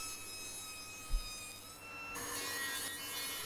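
Wooden seat pieces cut from recycled porch planks are sawn to size, a steady rasping cut running through the clip with a single thump partway, fairly quiet with no voices.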